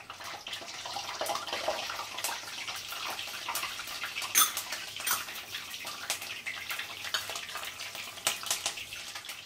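Green chillies spluttering and crackling in hot oil in a home kitchen, a steady hiss with scattered sharp pops and spits throughout, close and moderately loud with no talking.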